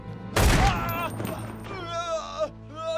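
A sharp burst of movie gunfire opens the scene, a single loud blast that fades quickly, followed by dramatic voices and tones.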